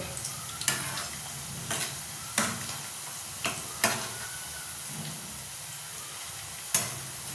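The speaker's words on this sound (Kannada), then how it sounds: "ಹುಷಾರಿಂದ ತಿರುವು ಹಾಕಿ ಸ್ವಲ್ಪ ಕೆಂಪು ಹತ್ತಬೇಕದು ಆಲೂಗಡ್ಡೆ" Potatoes frying in a pan while being carefully stirred, a steady sizzle broken by regular spatula scrapes and taps every second or so, close up.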